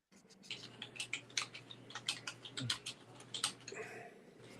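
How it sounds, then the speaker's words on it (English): Quick, irregular clicks of typing on a computer keyboard, heard faintly, with keystrokes tapping in uneven bursts over a low steady hum. "Is he typing to us?"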